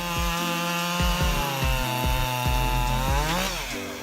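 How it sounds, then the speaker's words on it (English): A powerful chainsaw cutting through wood up close, its engine holding a loud, steady whine that dips and bogs under load several times before rising again, with no voices. "With a cutting speed of approximately 68 feet per second, this chainsaw easily tackles demanding jobs."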